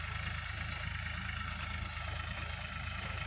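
A tractor engine runs steadily while working a paddy field, a constant low throbbing drone with a rhythmic pulse, loud and fairly close throughout, with no talking.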